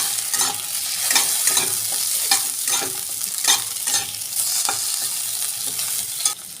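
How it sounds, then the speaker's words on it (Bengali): Garlic and tomatoes are stirred in a frying pan, with a steady high sizzle and repeated scraping strokes of a spoon about every half second, close and fairly loud with no voices. "কখন রসুন দিয়ে দিলাম। দিয়ে এটা আমি একটু নাড়িয়ে নেব।"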